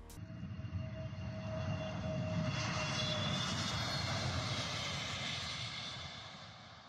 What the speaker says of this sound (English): Plane dragging its tail along the runway for testing purposes.